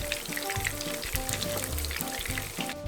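Mini meatballs for spaghetti frying in hot oil, giving a dense, steady sizzle with crackling pops throughout, loud and close, with no talk.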